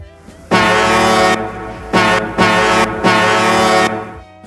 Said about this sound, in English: horn sounds a lot more like a modern diesel or foghorn